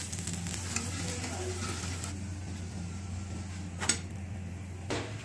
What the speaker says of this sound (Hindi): इस पॉइंट पे आके हम इसके ऊपर घी डालेंगे और इसको अच्छे से बनाएंगे